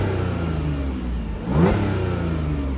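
An Audi S5 3.0 TFSI V6 turbo quattro coupe with 333 bhp idles with a deep, steady hum, then its revs rise in one short, loud, close swell before falling back to idle.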